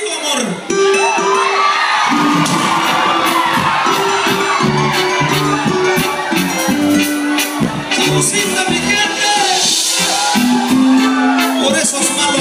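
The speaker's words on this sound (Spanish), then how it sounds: "Y ese pinche grito mexicano." A lively crowd at a music show in San Francisco lets out loud whoops and shouts in the style of a Mexican grito, mixed with cheering over sustained music throughout.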